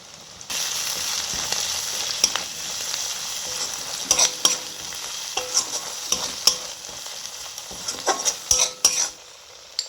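Mustard, fennel and cashew paste fries with Kashmiri chili powder and spices in a pan for prawn malai curry, a steady close sizzle punctuated by repeated sharp metallic spoon clinks and scrapes, busier toward the end.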